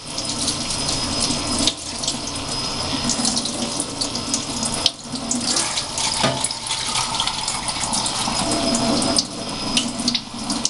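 Cool tap water runs steadily into a sink while grimy 1946 Frank Sinatra radio discs are being washed, a constant near splashing hiss with slight changes in flow and no talking.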